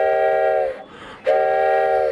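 Electronic train bell or whistle effects from a restored Gorilla Water Race arcade game, two bright sustained tonal blasts with a short gap between them, loud and close with no talk.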